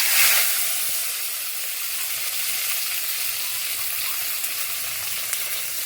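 Boiled eggs, scored and sizzling in hot oil with masala for an egg curry, fry with a steady, close hiss and crackle that runs throughout without any talk.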